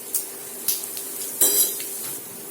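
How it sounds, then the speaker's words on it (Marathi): Mustard seeds and cumin dropped into hot oil in a kitchen pan, a steady sizzle punctuated by a few sharp metallic clinks and a louder crackling burst, close and without voices. "याच्यामध्ये आपण मोहरी टाकूया आणि जिरे टाकूया"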